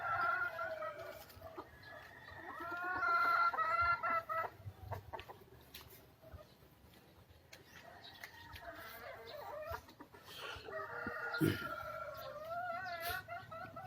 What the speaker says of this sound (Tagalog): Ito pag-aalaga ng manok.